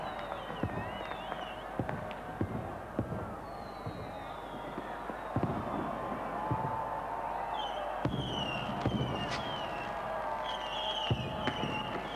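New Year's millennium fireworks over central Helsinki, seen from Suomenlinna island, crackle and pop in a steady scatter of sharp bursts with occasional louder bangs and distant whistles, rather faint and far off with a faint crowd murmur beneath.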